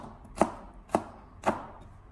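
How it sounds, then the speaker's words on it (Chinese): Three crisp knife chops on a cutting board, evenly spaced about half a second apart, as green chili peppers are sliced into small rings; close, clear and alone with no talk. "再改刀切成小圈"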